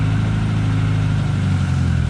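A K series engine in an MG Midget idles steadily and loud throughout, a close, even mid-pitched hum with no other sounds while the gears are being selected.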